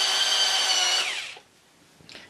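An electric pencil sharpener whirs loudly and close as a pencil is ground for about a second, then its motor winds down and stops, followed by a faint knock.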